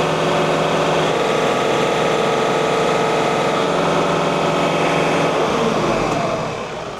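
John Deere 3039R compact tractor engine held at wide open throttle, a loud, steady drone with even mechanical whine, constant throughout and easing slightly at the very end, with no voices.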